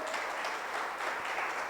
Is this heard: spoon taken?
no